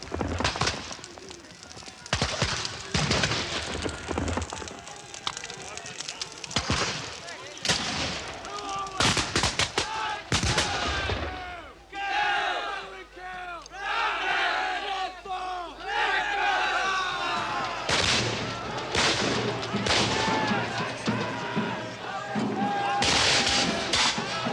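Booming cannon and scattered musket shots crack out at a re-enacted 1646 Civil War siege of Powderham Castle, loud and irregular, mixed with crowd shouts, battle cries and bird calls.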